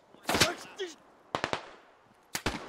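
Gunfire in the SquadOps military shooter game: three separate bursts of sharp shots, the first around half a second in, then a tight cluster at about 1.4 seconds and another near the end, with a brief voice-like sound between bursts.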